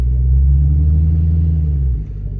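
A supercharged 6.2-litre 2021 Dodge Challenger Hellcat engine holds a loud, steady low rumble for about two seconds, then drops to a lower idle.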